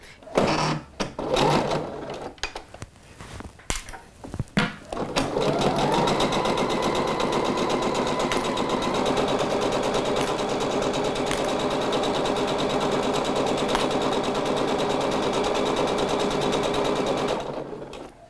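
Short bursts of a domestic sewing machine stitching fabric, then a long, steady whirring run with rapid needle chatter, close and loud, stopping abruptly near the end.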